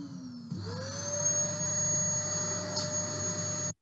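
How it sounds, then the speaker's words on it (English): Vacuum cleaner switching on, a broad steady roar with a hissing whistle in the middle, rising briefly at start-up and then holding constant until it cuts off abruptly. "So this is a vacuum cleaner."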